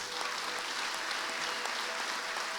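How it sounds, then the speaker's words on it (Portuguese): A church congregation applauding, a dense, even wash of clapping that holds steady throughout, moderately loud and with no voices on top. "Aplaude a Deus por isso."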